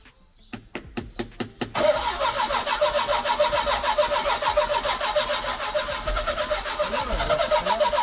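An abandoned Volkswagen car engine cranks in a rapid series of starter bursts, then catches and runs loudly with a rough, pulsing idle and surges of revving, close up with no talk.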